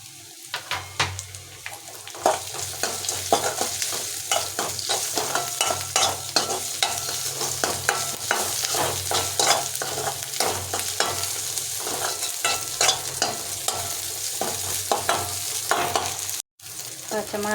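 Green chilies sauté in a pan for Tamil egg rice, giving a steady close sizzle broken by frequent scraping stirs of a spatula throughout, with no talking.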